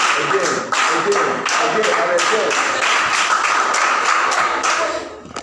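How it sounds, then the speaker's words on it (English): Audience clapping at a health training college presentation, a burst of dense, loud clapping with sharp claps standing out, under talk, fading at the end. "I said you should clap. Clap again."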